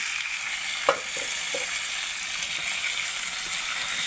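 Boiled chickpeas go into a hot pan of tempering with curry leaves, chana dal, urad dal, mustard seeds and cumin, giving a steady, fairly quiet sizzle with a few soft stirring taps.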